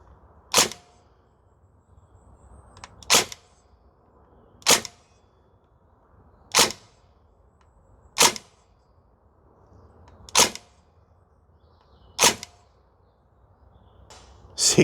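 Northeast Airsoft Mini UZI gas blowback rifle fires BBs as single sharp, loud shots at a steady rhythm of roughly one every one and a half to two seconds, eight cracks over a quiet background with no voices.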